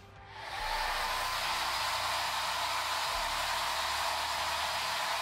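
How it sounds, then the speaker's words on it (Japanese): A far-infrared hair dryer blows while drying hair, switching on at the start and then running as a loud, steady airy roar with no voices. "ドライヤーは遠赤外線のドライヤーを使っていきます。"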